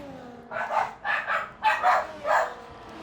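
Four distinct barks from household dogs, close and evenly spaced, each a short yappy burst with a faint tonal hum underneath.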